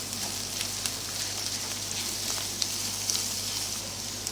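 Onion, green chillies and ginger garlic paste sautéing in a pan for a Hyderabad paneer masala, a steady soft sizzle with faint crackles and a low hum underneath, no talking.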